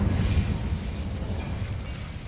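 Incendio fire spell in Hogwarts Legacy, a heavy, rumbling whoosh of flame that bursts loudly at the start and then gradually fades over a couple of seconds, with no speech.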